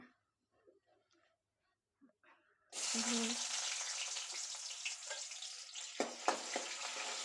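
A bay leaf dropped into hot oil for a chickpea and pea gravy sets off a sudden loud, steady sizzle after a quiet start, with a brief burst of crackling near the end.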